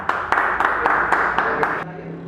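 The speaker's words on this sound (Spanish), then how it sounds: "Recibámonos con un aplauso." Scattered clapping from a small audience at an engineering lecture on the geotechnics of an underground metro, with about seven distinct sharp claps over a murmuring room before it stops.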